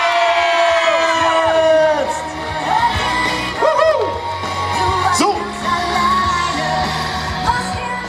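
A crowd cheers, yells and whoops loudly at the women's Ruder-Bundesliga rowing award ceremony in Duisburg in 2019. The roar stays steady throughout, with bursts of individual shouts rising above it.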